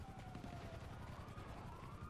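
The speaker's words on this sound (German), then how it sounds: "Polizeiauto." A police car siren wails in GTA Online, a steady rising and falling tone sitting within dense, loud game noise of engines and gunfire-like crackle.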